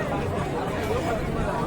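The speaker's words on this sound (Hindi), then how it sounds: "भीड़ ज्यादा है।" Dense crowd chatter fills the grounds of Kaal Bhairav temple in Ujjain, a steady unbroken babble of many voices close around with no single speaker standing out.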